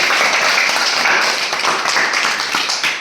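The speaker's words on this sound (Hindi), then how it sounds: "ताली बजा सब लोग" Children in a classroom clap together for a classmate during a maths lesson. The steady, dense clapping is close and fades slightly near the end.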